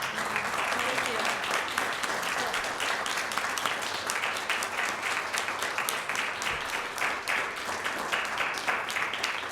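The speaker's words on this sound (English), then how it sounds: "thank you for the hand clap" Sustained audience applause with distinct hand claps at a civic awards gathering honoring a local individual, loud and continuous with some crowd murmur underneath.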